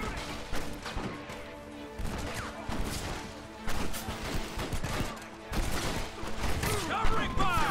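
Gunfire and crashing impacts in Red Dead Redemption, irregular loud shots and smashes scattered through a busy mix, with a voice talking over parts of it.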